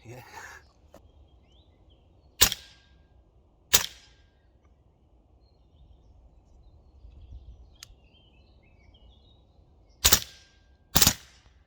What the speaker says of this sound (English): So before I unbox it, I will really shoot it now with this gun